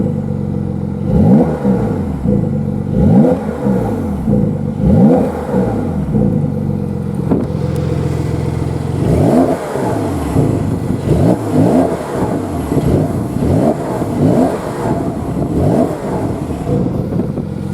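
A 2020 Porsche 992 911 with its exhaust valves open is revved repeatedly while stationary, loud close blips rising and falling in a series of sharp bursts, with the engine idling between throttle stabs.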